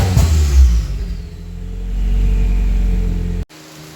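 Turbo Toyota Paseo convertible engine running close by with a loud, rough rumble that swells as it revs, then cuts off abruptly and drops to a lower idle.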